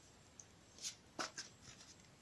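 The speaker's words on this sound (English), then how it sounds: "I'm going to shuffle them again for you quickly on camera" Tarot cards being shuffled by hand, heard as a few soft, brief riffles and flicks spaced close together, quiet and close with no talking.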